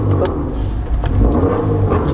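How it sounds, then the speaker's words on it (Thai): A 2007 BMW 320i E90 sits with its engine running and rumbling close by, a steady mid-range idle with light revving and faint clicks. "เหยียบเบรกนิดนึงครับ สตาร์ทเลย"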